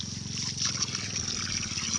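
Water runs from a faucet in a steady, close trickling flow with a faint rhythmic pulse, continuous and fairly loud for the whole moment.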